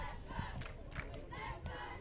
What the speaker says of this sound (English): the Swans in response are bringing me back to primary school sports with the let's go, clap, clap chant